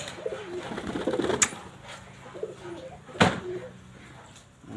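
Pigeons bathing in water coo in low, throaty murmurs close by, broken by a couple of sharp splashing flaps.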